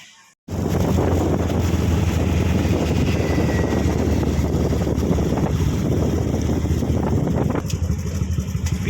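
Engine drone and rushing wind of a three-wheeled tuk-tuk driving along a road between Thailand and Laos, loud and steady for nearly the whole ride after a brief quiet start.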